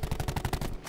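Maddox rifle with fast magazines fires in a video game, about ten loud, rapid shots in under a second with a steady automatic rhythm and no talking.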